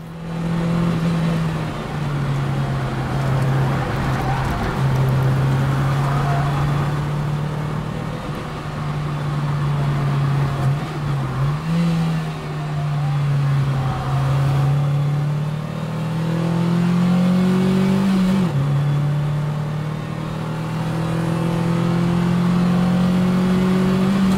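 An MG MGF sports car engine drones at full throttle on a track throughout, pitch rising and dipping with gear changes and shifts in throttle, steady and loud.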